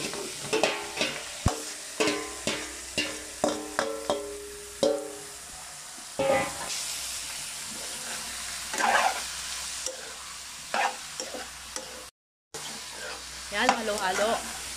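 Beef innards including lung fry in a pan for papaitan, a loud sizzle broken by a series of sharp scraping and knocking stirs, first in a quick rhythm and then more scattered, with a few murmurs of voice.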